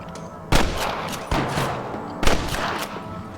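Repeated gunfire from a Red Dead Redemption shootout against snipers, with three loud sharp shot bursts each trailing into echoing crackle, heard alone.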